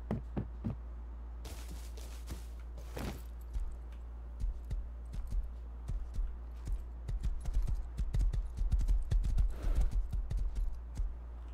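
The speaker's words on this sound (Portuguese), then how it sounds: "O cavalo tá quase morrendo, velho." Horse hooves gallop in the video game Rust, a quick, uneven clip-clop that runs throughout and grows denser and louder toward the end, with faint jingling along the way.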